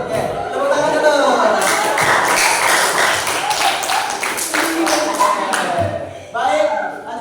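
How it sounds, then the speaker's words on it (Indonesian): A group of children clapping in a classroom lesson, loud dense rapid claps running for several seconds, with brief voices and chatter mixed in near the end. "tepuk tangan dulu"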